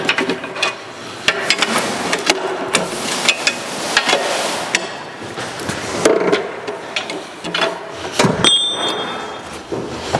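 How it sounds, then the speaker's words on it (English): Metal clanks, scrapes and knocks as a wedge is pried loose on an H&H quick attach for a machine, with irregular sharp impacts and grinding over about ten seconds, close and fairly loud. "And then you just pry the wedge loose."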